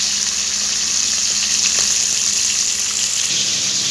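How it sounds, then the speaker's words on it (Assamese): Borali fish coated in salt and turmeric frying in hot oil, a continuous bright sizzle and crackle, close and steady throughout with no talking. "নিমখ হালধি সানি পেলাই মই এখিনি ফ্ৰাই কৰি আছো"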